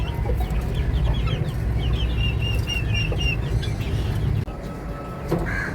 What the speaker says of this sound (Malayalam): ഇത് കോഴി ഏതാണ്?